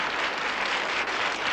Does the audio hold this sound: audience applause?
yes